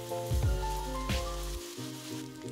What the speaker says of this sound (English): Add in your onions and saute for 2 to 3 minutes until slightly translucent